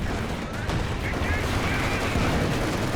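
Artillery fire in Company of Heroes 2, a steady dense rumble of distant shelling and gunfire that stays loud and constant, with faint voice-like activity beneath.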